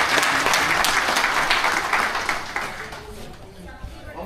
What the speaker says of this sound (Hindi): एक बार जोरदार तालियों से उनका स्वागत है